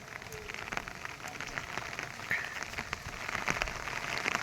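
Steady rain falls and patters on a surface, a continuous soft hiss with occasional louder drops.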